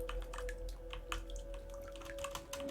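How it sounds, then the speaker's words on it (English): A dripping sink in the game Stray, with faint, steady little drips ticking irregularly over a low hum and a thin sustained tone. "Your sink has a drip."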